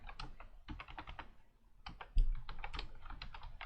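Someone types a name on a computer keyboard in quick bursts of close, crisp key clicks, pausing briefly midway before resuming with a firmer keystroke.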